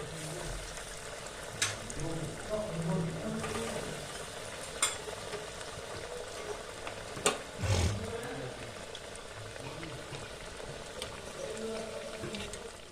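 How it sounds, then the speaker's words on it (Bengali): Breaded soybean chops frying in hot oil in a home kitchen, a soft steady sizzle with occasional louder pops and stirring clatters, fairly quiet throughout. "এবার আমি ভেজে দেখাবো।"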